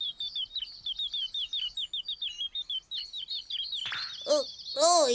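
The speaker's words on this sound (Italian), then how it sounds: "Barba Zo fa una passeggiata nel bosco e ascolta il canto degli uccellini." Small cartoon birds chirp in steady repeated high tweets through a forest scene, a continuous run of bright calls, joined near the end by a few louder sweeping whistles.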